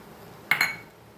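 A short clatter of metal as jaggery goes into cooked puran (sweet lentil filling) in a kadhai heating on a gas flame: one quick, fairly close clink and scrape that fades within a few tenths of a second.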